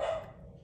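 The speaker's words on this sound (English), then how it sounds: "I think that's Louis barking with the doorbell just rang." A single sharp dog bark at a ringing doorbell, fairly close, fading quickly into a quiet background.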